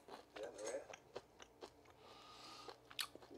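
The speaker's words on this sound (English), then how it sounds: "I gotta try a bit of this steak." Someone chews a bite of steak close up, with soft, wet mouth sounds and a few crunchy bites, a faint murmur briefly mixed in.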